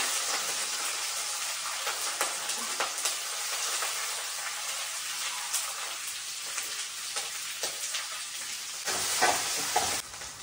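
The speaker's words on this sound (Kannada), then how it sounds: "just tossing the PAN" Chilli and onion sizzle in a frying pan as it is tossed, giving a crackling hiss broken by repeated scraping and shaking bursts. The noise is close and continuous, with a louder surge near the end and no talking.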